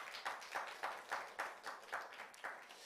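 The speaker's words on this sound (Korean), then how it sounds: "뜨겁게 박수 한번 하겠습니다" Congregation clapping in a church, a soft, fairly even rhythm of claps heard from a distance with no voices over it.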